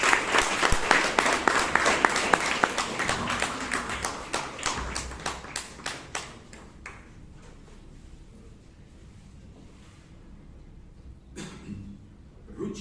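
Applause at a Toastmasters meeting, loud at first and then thinning into scattered individual claps that fade into quiet room tone, with a few late claps and a soft thump near the end.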